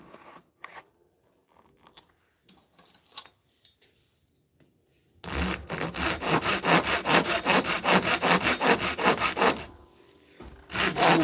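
Thin, fragile wood being hand-sawed in a brisk, steady run of rasping strokes from midway on, loud and close, after a quieter stretch of small handling noises.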